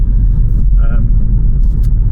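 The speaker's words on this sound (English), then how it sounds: "We are now driving the Hyundai Kona." Hyundai Kona Electric driving on the road, a loud, steady low rumble of tyres and cabin noise, with a person talking over it.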